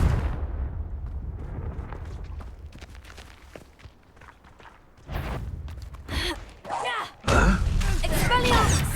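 A Confringo fire-blast spell explosion in the video game Hogwarts Legacy, several booming bursts in the second half after a quieter stretch of scuffling, with voices speaking around them.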